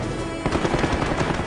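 Cannon fire from German Me 262 jets in a dogfight with Mustangs: rapid, loud bursts of repeated shots rattling in quick succession after a brief lead-in of roaring noise.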